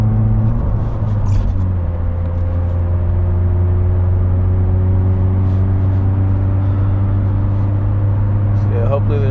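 Car on a first-person drive, a steady low engine hum and drone with road noise filling the cabin throughout, no talking.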